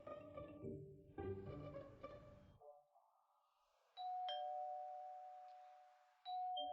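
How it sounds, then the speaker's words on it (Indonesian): A doorbell chimes twice as clear ding-dong tones, each ringing out and slowly fading, following an earlier stretch of other sound. "ada yang menekan bel pintu"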